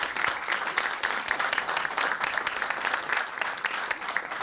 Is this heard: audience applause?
yes